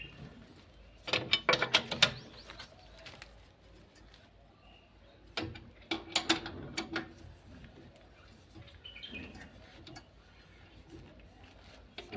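Car wheel nuts being tightened during a spare tyre change, heard as bursts of quick metallic ratchet clicks in two main runs with quieter handling between, close up while someone talks.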